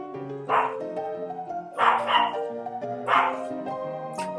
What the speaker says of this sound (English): The dog is barking, which is gonna rile up my other dog.